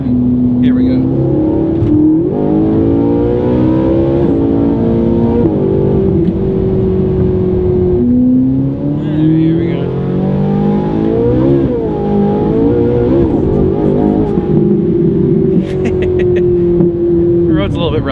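A Ferrari 458 accelerates hard along a highway, its engine revving loud and close with rising and falling pitch sweeps through the gears, while a person talks over it.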